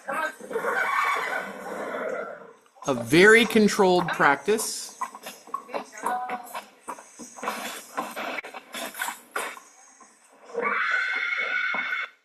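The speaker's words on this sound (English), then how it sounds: "And you hear the other horses, they're like, wait, what's going on?" Horses in a barn whinny and neigh during a controlled fire-prevention practice, a loud tremulous call standing out among speech, with clattering and shuffling noises around it.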